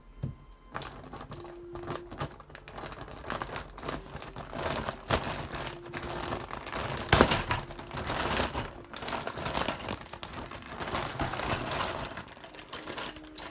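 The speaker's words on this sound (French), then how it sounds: "Bon, je vais l'ouvrir devant vous." A plastic bag of Playmobil parts is torn open and handled, making close, irregular crinkling and rustling with sharp crackles and small clicks of loose pieces throughout.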